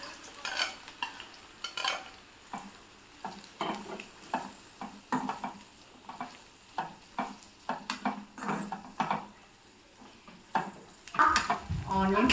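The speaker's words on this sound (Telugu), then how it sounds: "ఇప్పుడు ఆనియన్ ఫ్రై చేసుకున్నాము" Onions frying in oil for biryani, with a steady sizzle broken by repeated scraping stirs of a spoon against the pan in an uneven rhythm, close and moderately loud, with no one talking.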